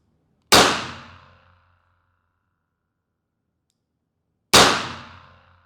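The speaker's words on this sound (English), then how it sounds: "Okay, so we fired 2 rounds." A World War 2 era revolver fires two rounds at a target eight yards away: two sharp, loud cracks about four seconds apart, each ringing out and fading quickly into silence.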